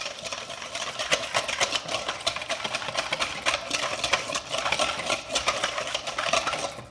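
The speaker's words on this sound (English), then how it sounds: "So I'm gonna add a little bit more olive oil. And we're gonna whisk that again." Rapid metallic clicking and scraping of a whisk against a bowl as olive oil is beaten into a vinaigrette, a steady busy rattle close up with no talking.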